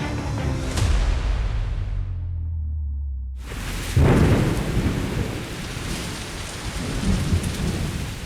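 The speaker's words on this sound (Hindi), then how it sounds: "भोपाल रिमझिम बारिश से भीग रहा था।" Rain falls steadily under a deep rumble of thunder. The rumble fades into a brief hush, then a sharp crack of thunder breaks and settles back into a continuous wash of rain on surfaces.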